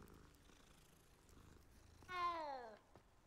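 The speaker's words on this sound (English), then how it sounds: "Oh, we're patting cat." A cat in Hogwarts Legacy purrs softly while being patted, then lets out one brief, clear meow near the end. The whole clip is quiet.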